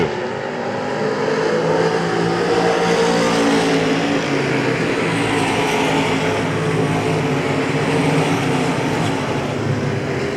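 Race cars roar around the Hagerstown Speedway oval in a dense, continuous engine drone. Several cars pass close together with a steady loud rumble across the whole stretch, and no voices rise above it.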